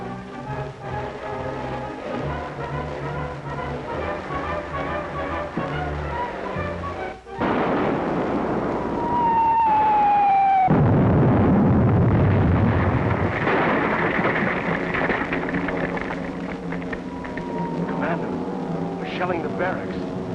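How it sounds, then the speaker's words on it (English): Artillery shelling of barracks: deep booming explosions with long rumbling roars, one heavy burst in the middle, mixed with voices and other film sound. "Shelling the barracks."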